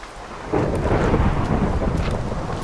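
A thunderstorm in the Minecraft video game: loud rumbling thunder that swells after a brief moment, over a steady wash of rain, with no talking.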